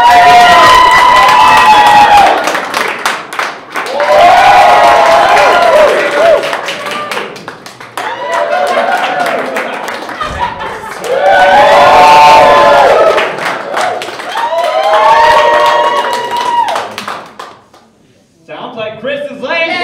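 A live audience roars with sustained cheering, shouting and applause as a comedy contest audience votes for the funniest contestant. Loud, dense crowd noise swells in waves and fades near the end, with voices yelling throughout.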